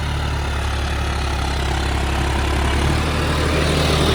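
A John Deere tractor engine runs at a steady, loud idle on a wet field, with a deep, constant rumble and no breaks for the whole stretch.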